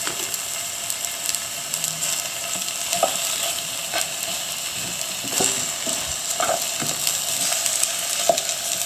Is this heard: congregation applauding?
no